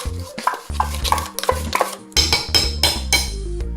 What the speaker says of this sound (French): Donc, vous remuez délicatement.